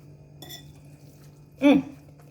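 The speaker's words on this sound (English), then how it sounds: "Put it into the dish to pop in the air fryer." Raw seasoned ground beef mixture goes into an air fryer dish, making one brief, close, muffled clunk against the dish after a quiet moment.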